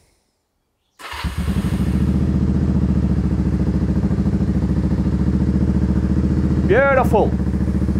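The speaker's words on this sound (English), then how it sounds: "Let's see what a new battery does for starting a bike." A motorcycle with a freshly installed new battery, just overhauled, fires up after a moment of silence and settles into a loud, steady, close idle; a voice briefly speaks near the end.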